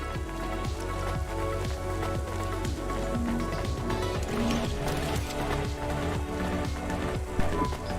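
Steady rain patters down on surfaces in the rainy cyberpunk city of the game Cloudpunk, a continuous wash beneath a droning musical score.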